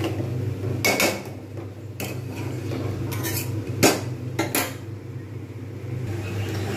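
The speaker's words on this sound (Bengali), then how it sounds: "এবারে আমাকে কিন্তু অনবরত নাড়তে হবে, না হলে কিন্তু এটা তলায় বসে যাওয়ার সম্ভাবনা থাকবে।" Kheer with sugar being stirred in a pot for shahi tukra, with repeated metal spoon clanks and scrapes against the pot in irregular bursts over a low steady hum, close by and without talk.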